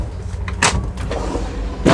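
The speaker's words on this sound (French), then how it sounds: "avec les freins, un deuxième grand tiroir," A second large kitchen drawer with soft-close runners in a Dethleffs Trend 7017 camper van rolls open with a close, short rumbling slide, followed by lighter knocks and another slide near the end.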